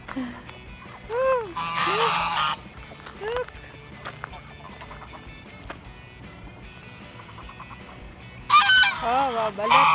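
Waterfowl at Farmington Pond in Utah give a few loud, nasal honks in short bursts, separated by quieter stretches with people talking and moving nearby.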